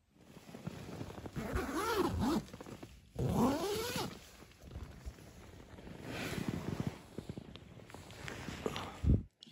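Zipper of a sleeping bag pulled open in a few long rasping strokes on a cold, smoky morning while camping outdoors, with rustling fabric in between and no talk.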